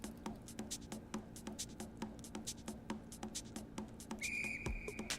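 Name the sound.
whistle in Emily's Dance, Stardew Valley video game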